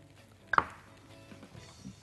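A single firm knife chop through onion on a cutting board, one crisp close hit followed by quiet kitchen background.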